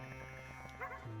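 A dog barking and yipping in short, faint bursts under a steady humming background, with a whimpering tone to some calls.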